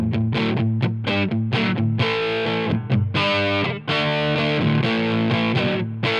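An electric guitar with a lipstick pickup runs through a Mooer Green Mile overdrive pedal on its hot setting, playing loud, gritty, rhythmic chords and sustained distorted strums up close without talk.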